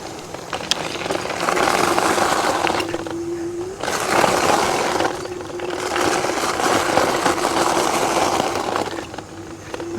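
A Mihogo Mini electric bike rolls over gravel, with continuous crunching and rattling of loose stones under the tires and a bumpy ride, loud and close throughout with short dips.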